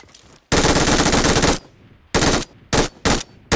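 MG3 machine gun fire in PUBG Mobile rips out in one long sustained burst followed by three shorter bursts, loud and close with gaps between them.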